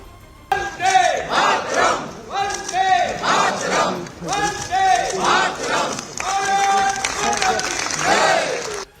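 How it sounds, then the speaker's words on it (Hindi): Members of Parliament in a hall chant Vande Mataram and Bharat Mata ki Jai in loud, rhythmic bursts, with call-and-response pulses repeating every second or two and clapping mixed in. "सांसदों ने वहां वंदे मातरम और भारत माता की जय के नारे लगाने शुरू कर दिए"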